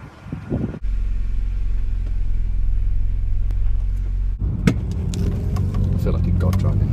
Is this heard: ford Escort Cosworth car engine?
yes